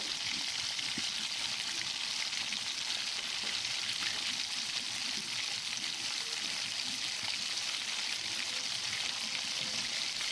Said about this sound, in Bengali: এবার আমি খুব সুন্দর করে রসুনটাকে ভেজে নেব।